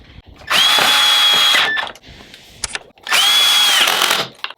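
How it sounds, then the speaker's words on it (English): Power drill with a hole saw boring into a motorcycle rear reflector, two loud whining bursts of about a second each with a short pause between, close up. "this area we're going to drill into"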